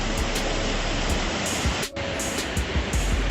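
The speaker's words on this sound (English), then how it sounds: "lots of water flowing from there" Creek water rushes steadily and close by, a dense continuous roar with faint intermittent crackles, briefly dipping near the middle and with no voices over it.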